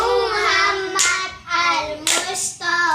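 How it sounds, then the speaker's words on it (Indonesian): A classroom of children claps hands in several sharp bursts amid voices, with harmonic singing or chanting tones running between and under the claps. "Tepuk tangan semuanya."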